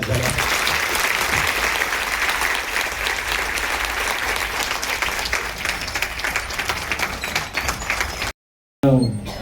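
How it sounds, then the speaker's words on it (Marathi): An audience at a live talk gathering breaks into loud, sustained applause, a dense wall of clapping that holds steady for several seconds before cutting off abruptly, then briefly returning. "तर या दोघांसाठी जोरदार टाळ्या झाल्या"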